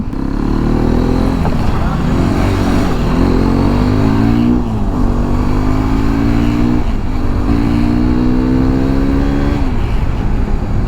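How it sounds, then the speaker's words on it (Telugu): A Hero Xpulse 210 motorcycle engine runs close and loud, revving up several times so its exhaust note climbs and falls in repeated surges. "సో ఎగ్జాస్ట్ నోట్ అయితే వినిపిస్తుంది చూడండి"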